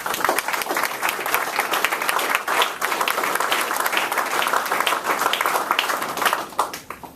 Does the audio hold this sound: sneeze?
no